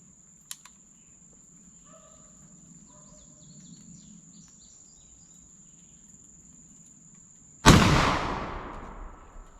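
A single loud gunshot from a black powder load of 2F powder booms near the end and decays with a long echo, preceded by a quiet outdoor stretch with faint insects and birds.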